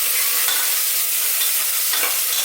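Onion and curry leaves sauté in a pan with a steady, close broadband sizzle and soft stirring scrapes, with a brief stronger burst near the end and no voices.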